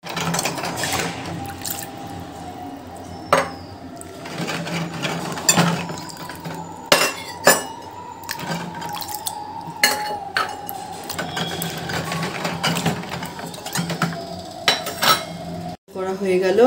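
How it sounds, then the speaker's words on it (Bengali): Metal puja utensils being washed and cleaned by hand at home, with repeated sharp clanks and scrapes of pots and vessels knocking together, water running, close and fairly loud. "আমি ঠাকুরের বাসন পরিষ্কার করে ধুয়ে রেখে দিলাম"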